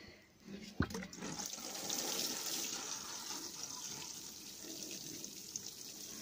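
Water pouring and splashing steadily onto seed trays, close and fairly quiet, after a short clunk at the start, with no voices.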